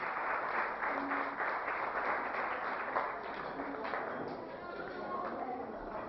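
An audience applauds a speaker being welcomed at a Novruz holiday celebration in a restaurant, with steady dense clapping that continues throughout and then tapers slightly.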